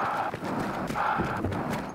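Player movement sounds from the video game Battlefield 1: a brisk, rhythmic clopping of steps, like hooves at a trot, continuing without a break for about two seconds with no voices.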